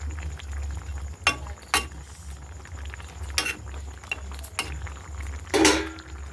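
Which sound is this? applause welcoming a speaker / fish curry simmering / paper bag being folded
fish curry simmering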